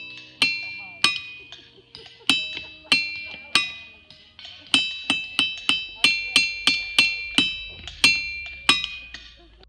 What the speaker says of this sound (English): These rocks emit an unusual sound when struck. They produce a ringing tone, similar to cymbals.